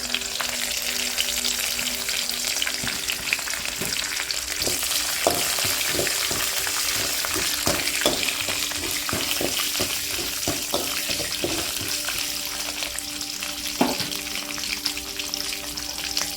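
Onion, green chilies and curry leaves crackle and fry in hot oil for coconut rice, a continuous sizzle with a run of sharp clinks and scrapes from stirring near the middle, no talking.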